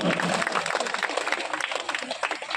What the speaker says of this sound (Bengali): একটু জোরে হাততালি দিশার জন্য